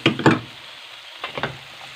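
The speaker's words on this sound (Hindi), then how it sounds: "अब यहाँ पे मुझे शामिल करना है बंद गोभी को और इसको भी मैं थोड़ी देर तक फ्राई कर लूँगा।" Chopped cabbage and capsicum fry together in a pan for a desi macaroni sabzi, giving two loud sizzling, rustling bursts at the start, a quiet stretch, then a second cluster of softer stirring crackles.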